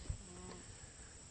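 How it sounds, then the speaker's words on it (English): Honey bees buzz around two white beehives on a farm, a faint, steady, thin hum heard alone. "And those two white boxes right there, those are our beehives. We keep bees here as well."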